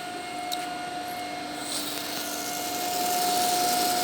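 A DC motor coupled to an induction machine runs at about 1500 rpm in a lab, giving a steady whining hum with a sustained tonal whine that swells slightly louder toward the end, no talking.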